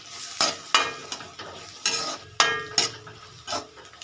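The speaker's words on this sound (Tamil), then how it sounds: "உடச்சி ஊற்றி நல்லா வந்து வதக்கி எடுத்துக்கோங்க" Egg and onions sizzling in a pan while a utensil scrapes and stirs in quick irregular strokes, close by and fairly quiet.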